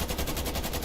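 Rapid automatic gunfire in a competitive video game tournament match as a team pushes toward the center of the map, a steady rattling burst lasting under a second with no talk.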